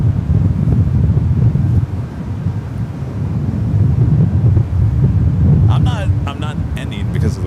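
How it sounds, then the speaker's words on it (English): Strong gusty wind buffets the microphone at San Francisco International Airport, a loud steady low roar throughout, with a brief burst of higher clatter near the end. "It is always windy here."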